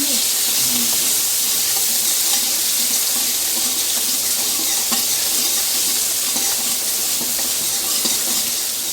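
Chopped ginger and capsicum fry in a pan for cauliflower Manchurian, producing a steady, loud hiss and sizzle along with faint scraping as the pan is stirred. The sound runs continuously from start to finish, with no talking.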